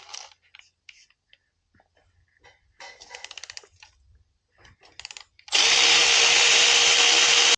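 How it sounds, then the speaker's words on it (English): A Milwaukee power wrench loosens 9/16 studs on a 1975 Harley Davidson Shovelhead transmission: scattered clanks and handling noises first, then a loud continuous whirring burst near the end. "we're actually going to get on those with the Milwaukee wrench here and we'll get those loosened up"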